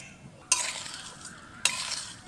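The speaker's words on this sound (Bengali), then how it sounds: "মিছরি গুঁড়োর সাথে আমলকিগুলোকে ভালো করে মিশিয়ে নেব" Boiled amla being stirred with powdered sugar candy in a pan, two sharp scraping clinks of the spoon against the metal standing out over a soft, quiet background of mixing.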